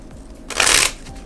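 A brief riffle of playing cards being shuffled, a quick burst of crisp papery flutter, close and fairly loud against quiet room tone.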